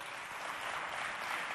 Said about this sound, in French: Applaudissez pour les 3 membres du jury.